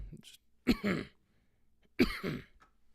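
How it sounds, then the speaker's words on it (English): Two short, harsh coughs a little over a second apart, close and fairly quiet, with faint breathy sounds around them. "Cough."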